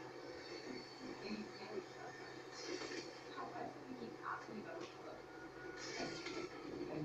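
A continuous rumbling, clattering train in a video game (GTA 5) runs steadily with a rhythmic mechanical rattle, and brief louder swells of noise now and then, no clear talk.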